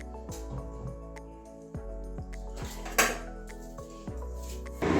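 A metal wok knocked onto a gas stove while cooking soybean and cauliflower curry, with a series of sharp clanks and scrapes of cookware, then a short splash as oil is poured in, close by.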